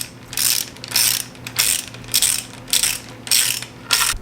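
A ratchet tightens bolts on the front cover of a 1965 Ford F100's 352 engine. Close, crisp clicking comes in seven even bursts with short pauses between them, and no one talks.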